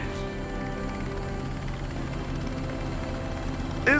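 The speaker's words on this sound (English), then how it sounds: "Is that a helicopter?" A helicopter's rotor in a video game thrums steadily and fairly loud throughout, with a continuous mechanical drone and no voices.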